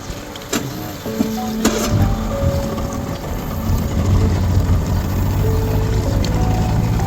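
A rebuilt 115hp Yamaha outboard boat motor cranks with a couple of sharp clicks, then a steady mechanical engine drone runs on throughout, fairly close.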